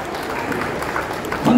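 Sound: audience applause

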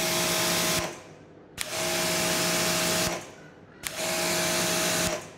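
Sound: Quivr pressure washer spraying after trigger pull

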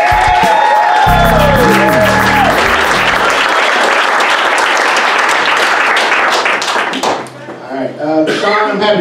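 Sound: audience applauding and cheering comedian coming to stage

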